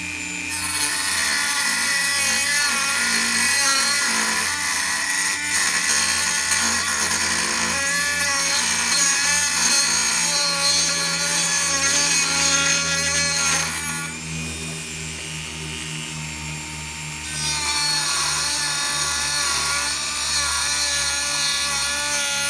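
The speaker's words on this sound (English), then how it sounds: "maybe we can use the Dremel and cut this guy in" Dremel cutting to enlarge a hole in a racing tractor's steel exhaust pipe, a loud, close, sustained high-pitched grinding whine that wavers in pitch and dips briefly midway.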